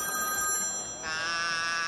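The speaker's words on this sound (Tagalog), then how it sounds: "I-check mo yung telepono kung may tumatawag." A telephone ringing indoors, a steady electronic ring tone that shifts pitch partway through, fairly loud over faint background noise.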